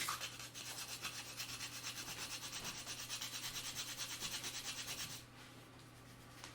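Whole nutmeg is rubbed against a metal grater in fast, even back-and-forth strokes, a steady rasping rhythm that stops abruptly near the end, leaving faint room noise.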